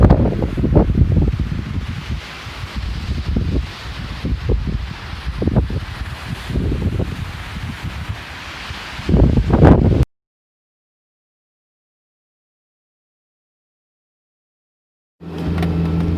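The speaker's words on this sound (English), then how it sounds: "I can literally barely stand here, it's so windy." Strong wind on an exposed mountain jeep trail roars and buffets the microphone in heavy, uneven gusts, then cuts to silence before the rumble briefly returns.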